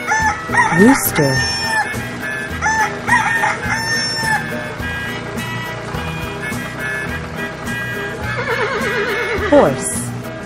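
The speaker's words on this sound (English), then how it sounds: "Horse." A horse neighs with a loud whinny early on and another near the end, set among mixed farm animal sounds such as rooster crowing, over continuous background music.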